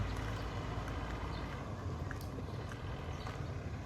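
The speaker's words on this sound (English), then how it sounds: "You hear the rattle of the motor." A diesel boat motor rattles in a steady, continuous drone with a heavy low rumble, close and unbroken, with no talking.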